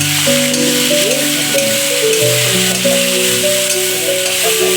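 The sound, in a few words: onion, garlic and ginger frying in a pan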